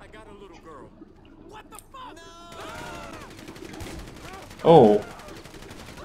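Gunfire in FivePD, a police mod for GTA V, with one sharp, loud shotgun-style blast standing out near the end against low game noise, a man briefly exclaiming.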